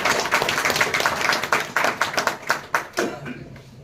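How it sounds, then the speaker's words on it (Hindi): A crowd at a political gathering in India claps loudly, with sharp individual hand claps forming a dense patter that thins into fewer, distinct claps near the end. "जोरदार ताली बजाकर"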